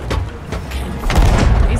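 A ship's cannon fires in the pirate video game Sea of Thieves, giving a heavy, booming blast with a rumbling low end that swells and stays loud through the short moment.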